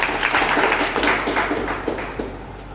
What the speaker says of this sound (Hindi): एक बार जोरदार तालियों के साथ स्वागत करें।